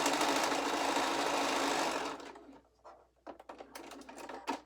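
Sewing machine running steadily along a quilt seam edge at a 1/4 inch seam allowance, a loud continuous buzz for about two seconds that then stops, followed by faint handling clicks and rustles.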